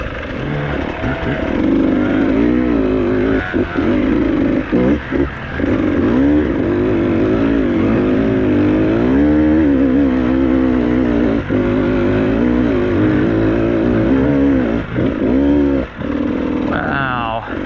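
A Beta 200RR two-stroke dirt bike ridden hard on rough, rooty single track, its engine buzzing and revving continuously up and down close to the microphone, with a rider's voice over it at times.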